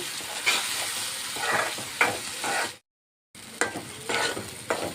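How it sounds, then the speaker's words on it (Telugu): Cucumber and sesame chutney fries in a tempering of hot oil and is stirred, giving a close, steady sizzle with rhythmic scraping strokes and a brief silent cut midway. "పచ్చడి మొత్తం వేసుకొని పోపులో వేయించుకుందాం. ఆయిల్లో మగ్గించుకుంటే టేస్ట్ చాలా బాగుంటుంది."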